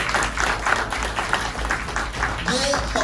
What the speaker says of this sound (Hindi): एक बार जोरदार फिर से ताली हो जाए